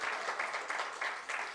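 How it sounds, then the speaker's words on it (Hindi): An audience at a one-day national seminar on entrepreneurship in Chhattisgarh claps. The applause is faint and distant, with a steady patter and rhythmic surges. "ताली बजाइए सब लोग"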